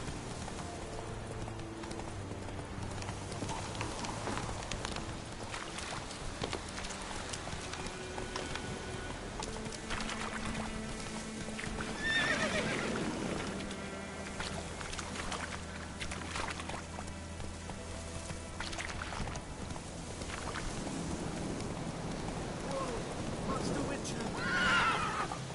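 Roach the horse in The Witcher 3 gallops with rhythmic hoofbeats and lets out neighs, under ongoing game sounds and a voice talking at times across the long stretch.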